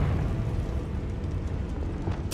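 A Confringo blasting spell in Hogwarts Legacy erupts as one sustained, roaring explosion: a dense low rumble held for a couple of seconds, loud and close, ending in a sharp bright crack.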